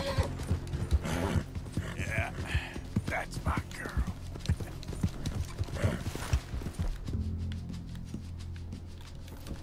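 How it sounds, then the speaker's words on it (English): Horse in the Red Dead Redemption 2 video game, clopping hooves and restless snorting close by, with a voice speaking over parts of it, then a steadier low rumble near the end. "Come on, horse, calm down."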